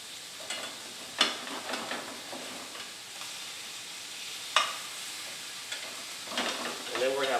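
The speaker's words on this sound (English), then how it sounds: "these have been cooking for about 5 to 8 minutes now, and we're gonna go ahead and flip them." Lamb sliders fry in a pan and are flipped. A soft steady sizzle sits under a few sharp scrapes and taps of a spatula, close and fairly quiet, with no talking.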